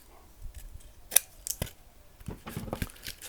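Scissors snip through self-adhesive alkaline-resistant mesh tape wrapped on a polystyrene gazing ball, making a few sharp, close cuts followed by light crinkly handling of the tape.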